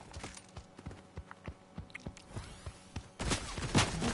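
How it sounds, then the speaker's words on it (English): Horse hooves clip-clop in a steady walking rhythm in Fortnite, close and moderately loud, followed near the end by a louder burst of rough noise. "That sounds like a horse."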